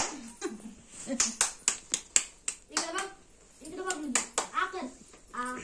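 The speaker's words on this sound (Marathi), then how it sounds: "त्याला बोलवायसाठी सगळे टाळ्या टाळा" Several people, children among them, clap their hands in quick sharp bursts at a family gathering. The claps ring out close and loud, mixed with excited children's voices.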